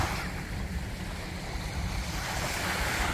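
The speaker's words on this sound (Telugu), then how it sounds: "సీ సైడ్ ఫుల్ సౌండ్ వస్తుంది" Sea waves rolling in at an evening seaside in Kuwait, a continuous wash of surf with wind buffeting the microphone, close and steady with no voices over it.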